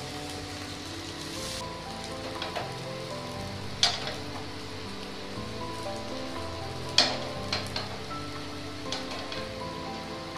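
Food fries gently in a pan with a steady soft sizzle, broken by a few sharper pops and crackles, close and quiet throughout.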